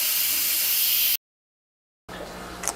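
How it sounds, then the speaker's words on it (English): Steam blasts from the vent of a pressure cooker making Zuppa Toscana, a loud steady close hiss that cuts off abruptly to silence, then resumes with a slightly fainter rushing hiss. "So we're going to go ahead and hit the steam button. Let the steam come out of it"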